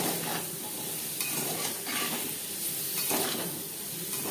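Paneer cubes frying lightly in a pan, a continuous moderate sizzle broken by a few scraping stirs and clinks of a spatula against the metal.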